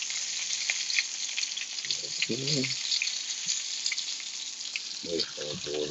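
Pepper-crusted filet steaks fry loudly in a pan, a dense, steady sizzle running throughout, while a voice breaks in briefly over it twice.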